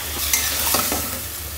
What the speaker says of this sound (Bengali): মশলা কষায়, কলা দিয়েও এখন খালি কষাতে হবে